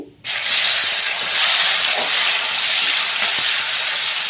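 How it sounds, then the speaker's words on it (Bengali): Whole cumin, dried chillies, bay leaves and chopped tomato drop into hot oil and set off a sudden loud, steady sizzle that continues evenly, close up and with no talk over it. "এখন দিয়ে দেবো গোটা জিরে ফোড়ন দুটো শুকনো লঙ্কা কয়েকটা তেজপাতা টমেটো কুচি"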